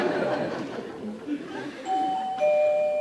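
An electronic doorbell chimes twice in quick succession, two clear tones ringing out over background chatter and voices during a stage play.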